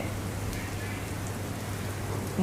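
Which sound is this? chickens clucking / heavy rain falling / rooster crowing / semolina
heavy rain falling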